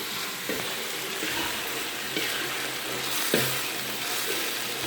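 Chopped chili frying in a hot pan for a sambal, a steady dense sizzle heard close up, with a few soft scrapes and stirring knocks and no talking.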